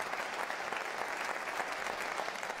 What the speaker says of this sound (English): how about a round of applause for those accompanists?